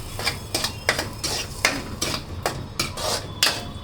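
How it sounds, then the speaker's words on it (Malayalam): A spoon scrapes and knocks around inside a pot of milk and water in a steady, regular rhythm of about ten clinks and scrapes, close by and moderately loud, with no talking. "എന്നിട്ടത് നമുക്കൊന്ന് ഇളക്കി കൊടുക്കാം"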